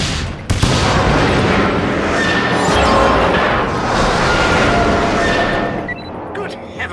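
Dense rumbling blasts and gunfire-like bursts from the video game 007: Everything or Nothing as a communications tower is destroyed, loud and continuous for several seconds before tapering off.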